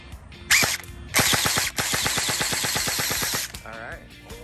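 An HK 416 airsoft rifle fires on full auto in a brief burst and then a longer rapid stream of sharp, evenly spaced shots up close, with a faint voice at the end.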